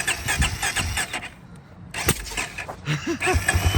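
An XR motorcycle engine being started, with a loud cranking and sputtering catch that settles into a rough, close idle, heard on its own without talking.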